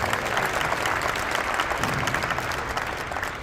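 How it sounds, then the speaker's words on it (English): Sustained audience applause at a press conference for a new Alabama A&M football coach, a dense, even wash of clapping heard alone for several seconds. "Give us a warm round of applause."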